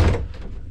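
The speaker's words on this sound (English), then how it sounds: "now you have to close the door" An old lift's ancient door closes with a heavy thunk at the start, then a low rumble tails off, close and fairly loud.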